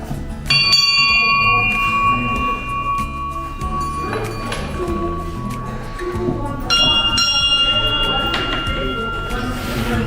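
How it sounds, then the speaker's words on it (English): Bells ring out in a bell-making workshop, two clear metallic strikes leaving long sustained tones that hang and overlap, set against a busy room with people talking and shuffling nearby. "And of course each different bell has a different tone."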